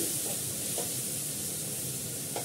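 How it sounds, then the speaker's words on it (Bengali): Ginger frying in a pan while being stirred, a continuous close hissing sizzle with a few soft scraping strokes and no talking. "আদাগুলো দিয়ে দিই, ভালো করে কষা হয়ে থাকে।"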